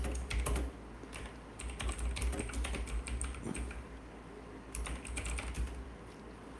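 Fingers type a command on a computer keyboard, a close run of quick, irregular key clicks with a few short pauses, steady and unaccompanied by speech.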